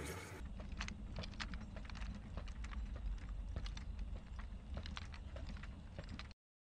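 Steady clip-clop of a donkey's hooves as it is ridden along a mountain path, used as an effect in a narrated story; a continuous, even trotting rhythm, moderately loud and heard alone.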